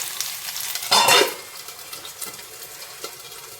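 Potatoes fry in a kadai, with a steady sizzle and light stirring scrapes, a louder burst of sizzling and stirring near the start, then quieter frying with occasional utensil taps.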